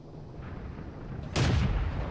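A tank's main gun fires once in the video game World of Tanks, a single loud, sharp blast that breaks a low rumbling background and then booms and decays.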